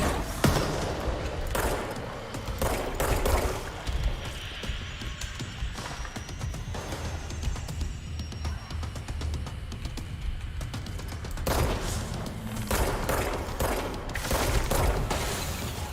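Rapid video game gunfire aimed at flying explosive devices, a dense continuous clatter of shots with heavier bursts near the start and end, loud throughout.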